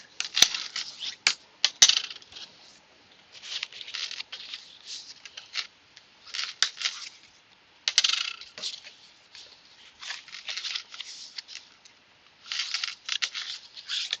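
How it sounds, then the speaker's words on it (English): Paper folds on a handmade note card box are burnished with a tool, making repeated soft scraping strokes in short bursts, close and fairly quiet, with brief pauses between passes. "Now I'm just going to go ahead and I'm going to burnish my folds."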